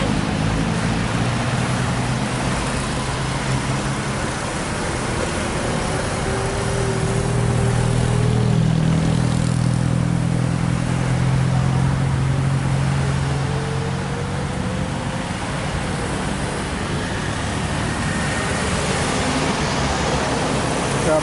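Premium intercity bus on the Raja Jakarta route, its medium engine droning steadily as it drives, loud and continuous with a rising, swelling hum midway through.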